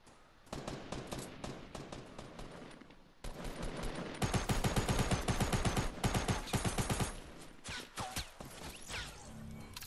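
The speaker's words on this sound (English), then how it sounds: "start shooting now" Heavy gunfire in a Fortnite Battle Royale fight, dense bursts of rapid shots that grow louder and more continuous midway, then thin into scattered single cracks.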